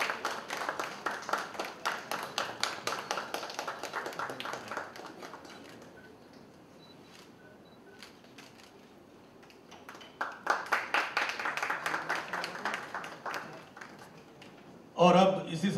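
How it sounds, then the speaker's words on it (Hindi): Audience clapping welcoming a guest at an indoor book launch, bursts of fairly loud clapping at the start, fading to quiet, then rising again near the end before a sharp closing sound. "उनका सम्मान जोरदार तालियों से।"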